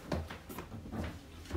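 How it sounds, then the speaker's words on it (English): A red-handled emergency window on a 2019 30-foot Gillig bus is pushed out and latched, giving a few soft, close knocks and clunks of plastic and metal, with no talk over them. "The windows work by pulling down on the red handle, pushing out firmly to release that. It also latches securely."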